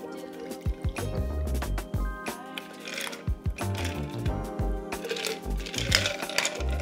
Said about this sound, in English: Pour over.